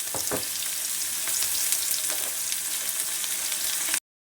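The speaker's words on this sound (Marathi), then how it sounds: "कांदा आणि मिरच्या चढचडून भाजल्या चांगल्या" Sliced onion and green chillies crackle and sizzle in hot tempering oil with cumin and mustard seeds, a dense, steady frying hiss with a few sharp pops near the start. No voices.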